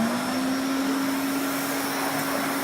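A 1972 Hoover Constellation 867A vacuum cleaner runs, a loud steady motor whine with a tone that rises slightly as it gets up to speed, heard alone and close.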